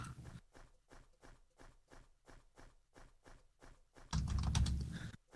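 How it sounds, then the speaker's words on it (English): Steady rapid clicking of computer keyboard typing in Second Life, an even run of keystrokes at moderate level, ending in a brief louder burst of noise. "Just a little bit of typing, and there we go."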